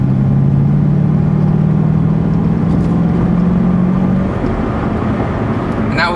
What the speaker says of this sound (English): that was maybe about half throttle, and it took no time at all to get up to speed.